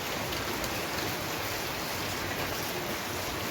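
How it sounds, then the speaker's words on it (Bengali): Steady rain falls in a wind-driven downpour, with water running off a house roof, forming a dense, even hiss that continues without a break. "যেমন হাওয়া হচ্ছে তেমন বৃষ্টি।"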